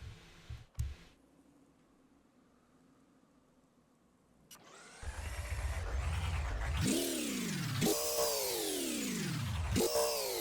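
A car engine in the video game Gear Blocks: after a few clicks and a quiet stretch, it starts and runs loud and steady, revving up and down in repeated rising and falling sweeps.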